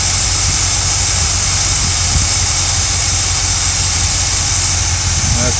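A loud, constant RV engine drone with a low rumble and high whine, steady throughout as it idles.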